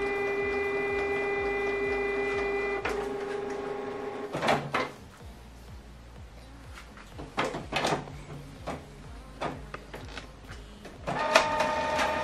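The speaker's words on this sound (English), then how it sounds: "this document now is going to print from." A Canon printer prints a document: a steady mechanical whir and tone at first, then a series of clunks, clicks and paper-feed thumps, loud and close.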